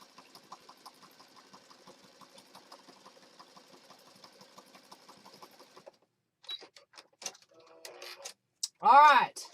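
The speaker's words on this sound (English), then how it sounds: "then we're going to sew down the middle here" A sewing machine stitches down the middle of a junk journal, a fast, steady, quiet run of needle pulses for several seconds, then stops before a few clatters and a brief loud voice-like sound.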